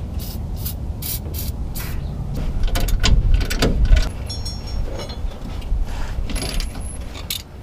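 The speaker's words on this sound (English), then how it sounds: "I'm gonna try and take them off first with a socket because these aren't too rusty." A socket wrench ratchets on the leaf spring shackles of a 1956 Chevrolet Bel Air, with rapid clicking bursts and metallic clanks up close under the car.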